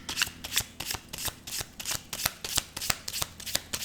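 Riffle shuffling of a deck of tarot-style story cards, a steady run of about a dozen crisp, papery bursts in an even rhythm, close and fairly loud with no talking over it.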